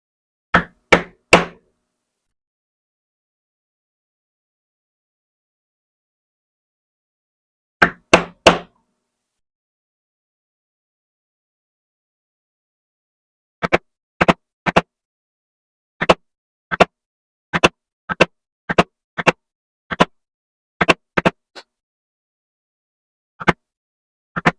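Sharp hammer knocks on leather, tooling a sunflower pattern, come in clusters, first a few quick taps, then a long steady series of evenly spaced blows, with silence between groups.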